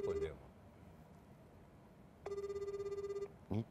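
Outgoing telephone call ringback tone, a faint buzzing ring pulse heard after a quiet stretch, with a short tone blip at the start and end and people speaking softly around it.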